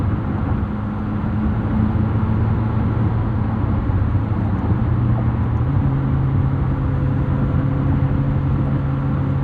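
Steady cabin drone of a 2026 Lamborghini Temerario cruising on the highway, constant low road roar and engine hum with little sound deadening, unbroken for the whole stretch.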